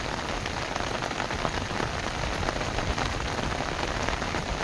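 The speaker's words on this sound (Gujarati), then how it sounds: "વરસાદ ફૂલ આવે છે ભાઈઓ" Heavy rain pours down in a dense, unbroken hiss that stays loud and steady throughout, with no voices.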